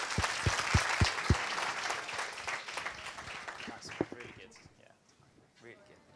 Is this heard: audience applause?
yes